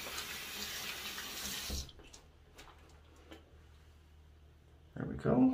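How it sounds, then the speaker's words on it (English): Running tap water splashes as a soapy shaving brush handle is rinsed under it, a steady rush for nearly two seconds, then quiet with faint clicks before a louder splash returns near the end. "Got to rinse that brush handle again."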